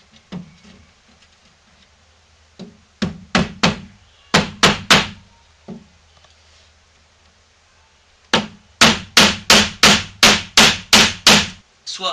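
A hammer drives a nail through a clip to fix wooden paneling: a loose cluster of sharp knocks, then two bursts of rapid, evenly spaced, loud strikes, the last a run of about ten blows.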